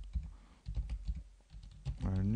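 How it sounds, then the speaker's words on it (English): Rapid clicking of a computer keyboard as someone types one-handed, a few short bursts of keystrokes close by, ending in a brief tonal sound. "Forgive me, I'm typing with one hand here."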